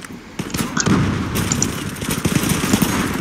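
Rapid bursts of video game gunfire in a Turkish multiplayer shooter, loud and dense with sharp repeated cracks and rattling volleys, overlapping shots filling the whole moment.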